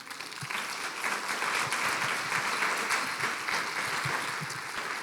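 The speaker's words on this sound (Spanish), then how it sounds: "Y eso merece un aplauso, ¿no?" A church congregation applauds during a Spanish-language sermon, steady mid-distance clapping from many hands filling the room without a break.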